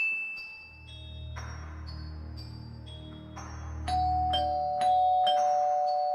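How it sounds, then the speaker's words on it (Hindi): A cartoon doorbell rings out a series of bright electronic chime tones over a low sustained musical backing, with the notes stepping in pitch and growing louder toward the end. "रॉड गुल्ली बुल्ली का डोरबेल बजाता है।"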